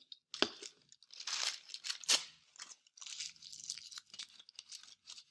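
Paper ripped and crunched by hand for an Earth Day craft, with irregular close crinkling, tearing bursts and scrunching through the stretch, fairly quiet and with no talk.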